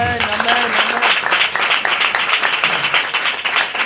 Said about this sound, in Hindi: ताली बजाएं प्रभु